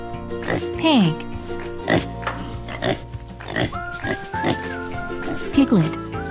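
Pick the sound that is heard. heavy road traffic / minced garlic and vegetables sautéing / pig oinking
pig oinking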